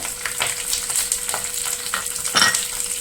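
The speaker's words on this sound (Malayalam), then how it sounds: "ഓയിൽ ചൂടായി വരുമ്പോൾ അതിലേക്ക് ഒരു സ്പൂൺ ഇഞ്ചി വെളുത്തുള്ളി പേസ്റ്റ് ഇതിലേക്ക് രണ്ട് തണ്ട് കറിവേപ്പില കൊടുക്കുക" Ginger garlic paste, curry leaves and green chillies sizzle in hot oil for a mushroom street-food dish. A steady, close, crackling fry plays alone, with occasional stirring scrapes.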